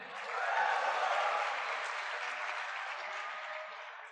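Audience applause fills a convocation hall at an institute valedictory function, a dense, sustained roar of many hands swelling early and slowly tapering over several seconds.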